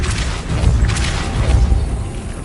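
A Depulso spell cast in the video game Hogwarts Legacy, a loud, dense, low rumbling burst that swells and holds for a couple of seconds.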